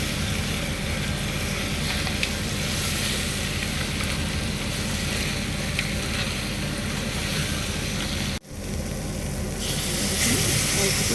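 Crab frying with spices in a pan for a spicy crab curry, a loud continuous hiss and sizzle that briefly drops out before resuming.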